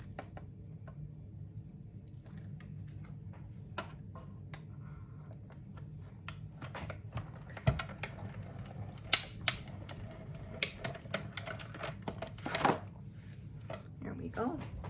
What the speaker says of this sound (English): I'm going to take my my die cut and emboss machine, and I'm going to die cut this little piece out.